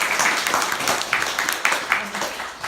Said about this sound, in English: you gave me a small applause for that